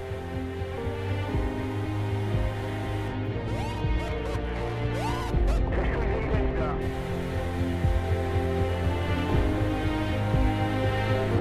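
A short jingle with sustained tonal layers, low hum and brief sweeping effects, played loud and steady with a voice over it, in a French military briefing about a lost CH-53 helicopter.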